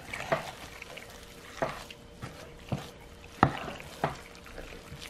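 Meatball mixture worked together by hand in a bowl, a series of soft, wet squelching slaps and thumps at an irregular rhythm, close up with no talking.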